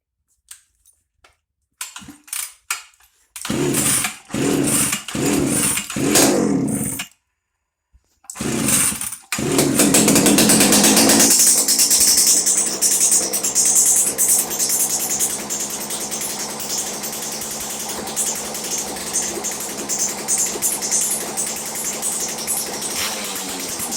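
Old-school muscle chainsaw with a dry carburetor being cranked: several sharp pull-cord bursts and sputters separated by silences, then the engine catches and runs steadily at a loud idle for the rest.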